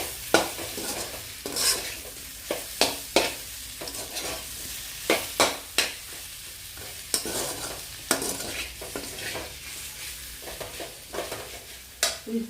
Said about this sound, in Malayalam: ചെമ്മീൻ ഫുള്ള് വറുത്തു